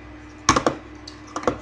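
A keyboard shortcut of Alt plus a bracket key is pressed while editing in After Effects: two quick close clusters of crisp key clicks, a brief double tap followed by another pair a moment later, with no talking.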